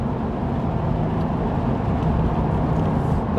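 A Porsche 718 Spyder engine drones steadily and somewhat muffled from inside the car, a constant low rumble with no talk over it.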